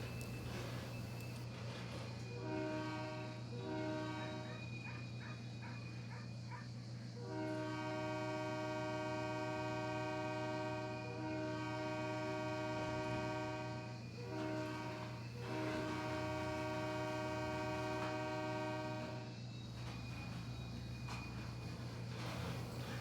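Model railroad train cars roll steadily past on a Pennsylvania & Berwind layout, a continuous mechanical hum with sustained tonal whine and light rhythmic clicking, fairly even in loudness throughout with no talking.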